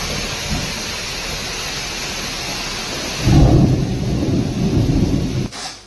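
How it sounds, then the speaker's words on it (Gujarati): Heavy monsoon rain pours steadily in Gujarat, then a deep rumble of thunder rolls in midway and fades near the end. "ધોધમાર વરસાદ ખાબકતા એક તરફ નીચાણવાળા વિસ્તારોમાં પાણી ભરાયા"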